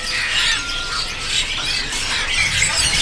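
Kacer birds (magpie-robins) at a bird-selling kiosk, giving bright, scratchy squawks and chirps over a constant busy high-pitched chatter, fairly loud and close.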